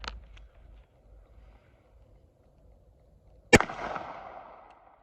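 One sharp, loud crack from a Smith & Wesson 351 PD revolver cuts through a quiet outdoor lull partway in, followed by a short fading ring. Faint low rumbles and a small tap come before it.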